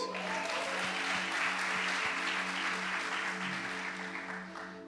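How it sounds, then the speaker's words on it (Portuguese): A church conference audience gives sustained applause, a broad, even roar of many hands that starts at once and tapers slightly toward the end, over a steady musical hum. "Dá um aplauso para Jesus."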